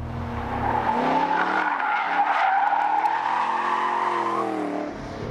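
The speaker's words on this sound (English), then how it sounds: "for a 60 to 0 braking test, very impressive stopping power" A Chevrolet Camaro 1LE braking hard from 60 mph, a loud sustained tire squeal with wavering pitch lasting about four seconds over engine rumble, ending abruptly as the car stops.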